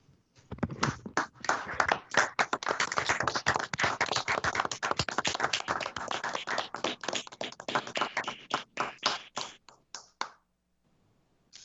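Scattered applause in a meeting room honoring a late colleague at a public agency session, dense uneven claps from a modest group that thin out into a few last isolated claps before falling silent.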